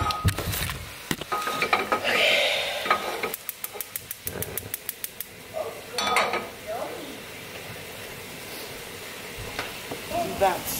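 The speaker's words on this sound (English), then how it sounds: "I'm just gonna use this little pan right here." Food sizzles and clatters in a small pan as a quick dinner cooks at home, with metal scraping, utensil taps and a burst of rapid clicks between frying hiss, close by.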